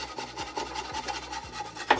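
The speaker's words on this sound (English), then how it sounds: "just using a handheld saw now, we're going to start to cut our lengths of timber" A handheld saw cuts through a length of timber branch, its steady back-and-forth rasping strokes close and regular throughout, with a brief sharper scrape near the end.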